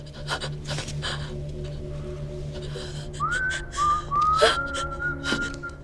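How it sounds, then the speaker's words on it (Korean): A single person whistles a few sustained, sliding notes in the second half, preceded by soft breathing and rustling. "또 휘파람 소리."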